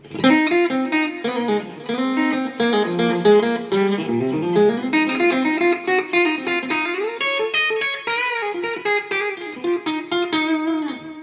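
A Fender Deluxe Stratocaster HSS electric guitar through a Mooer GE-200 multi-effects processor plays a run of distorted, effects-laden notes and chords, continuous and fairly loud throughout with no talking.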